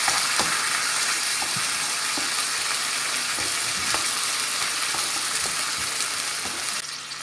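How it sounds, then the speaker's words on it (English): Chopped tomatoes from a tin sizzle in a hot pan for a chicken and lentil curry, with a steady fry hiss and soft, irregular scrapes of a spoon stirring throughout, close and fairly loud. "Now we're going to drop in 1 tin of chopped tomatoes. And we'll give that a stir."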